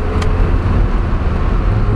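A Mazda NA Roadster fitted with a quick shift kit drives along, its engine and road noise a steady, loud low rumble filling the interior for two seconds.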